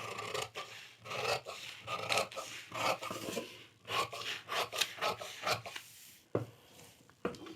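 Scissors cut through a paper blouse pattern in a series of close, crisp snips and rasping slices that come in irregular bursts with short pauses between them.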